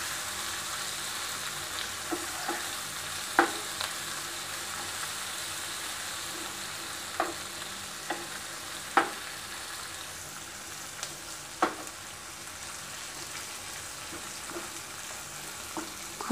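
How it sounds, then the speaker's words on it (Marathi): Chopped onion sautéing in oil in a pan for stuffed eggplant, with a steady close sizzle and occasional sharp clicks of a spoon stirring against the pan. "कांदा आपला व्यवस्थित परतला, परतून घेऊया"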